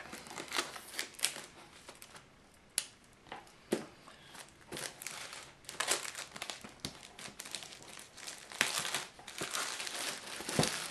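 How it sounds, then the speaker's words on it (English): Plastic shrink wrap crinkles and crackles in bursts as it is cut and peeled off a Golden Dawn Magical Tarot deck, close and fairly quiet, with irregular rustles and snaps. "We've got the shrink wrap removed from the Golden Dawn Magical Tarot."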